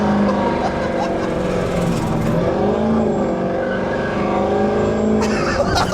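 A C10 pickup truck sleeper build accelerates, its engine droning steadily and rising in pitch close by, loud and continuous under occasional voices.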